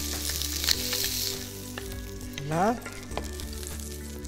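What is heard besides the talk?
fish frying in a Brabantia frying pan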